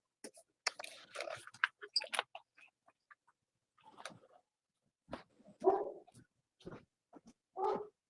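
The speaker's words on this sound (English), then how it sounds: "He's barking at nothing." Marley the dog barking in scattered bursts, with some whimpering and chewing-like sounds between quieter gaps, fairly close and moderately loud.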